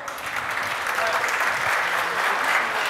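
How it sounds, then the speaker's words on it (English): A conference audience applauds to welcome the speaker, Radomir Djoković, onto the stage before a talk on test-driven development; dense, steady clapping fills the whole stretch at an even level. "Applause."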